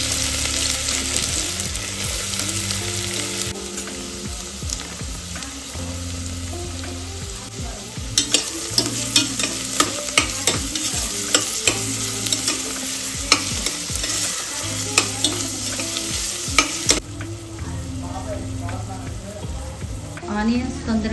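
Onions sizzle steadily in hot oil for a goat head curry, a constant frying hiss broken by a run of sharp spoon or spatula clicks against the pan through the middle of the clip.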